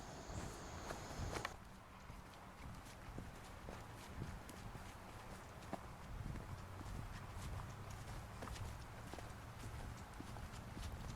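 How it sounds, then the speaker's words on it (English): Footsteps crunch steadily through woods, a regular plodding rhythm of soft thuds over a constant outdoor hiss, with no one talking. "I keep hearing footsteps"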